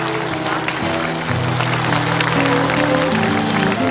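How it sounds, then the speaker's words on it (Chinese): Studio audience applause on a television reunion show, a steady dense wash of clapping that runs the whole time over a sustained musical backing. "来，鼓掌祝福他们，以后的日子越来越好。"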